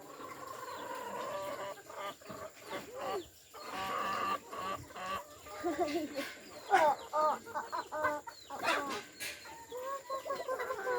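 Chickens cluck and call in a busy farmyard, a rooster-like crow rising briefly among the steady bird chatter while people talk nearby.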